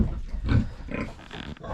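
A sow lying down grunts several times in low, snuffling bursts, close by, with a short pause between grunts.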